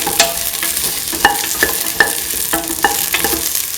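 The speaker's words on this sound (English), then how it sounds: "Keep on sauteing until the shallots lose their pinkish color." Shallots sauté in a hot pan with a steady close sizzle and frying crackle, broken by repeated scraping clinks of a utensil stirring against the pan.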